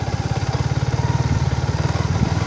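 A motorcycle engine on a rough off-road mountain trail, a loud close rhythmic thumping idle pulsing evenly throughout.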